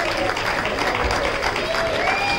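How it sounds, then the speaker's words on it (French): Hotel show audience at a Pullman resort on Naithon Beach, Phuket, clapping for a young volunteer, a short burst of steady applause under a lively room with faint voices in the background. "Ouais, on peut l'applaudir, Chelsea."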